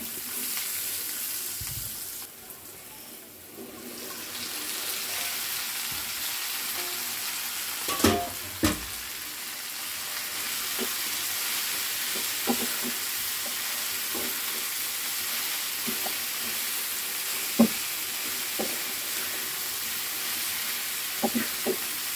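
Spices sauté in a pan in a home kitchen, giving a steady frying hiss with occasional spatula scrapes and knocks scattered through, close and fairly constant with no voices.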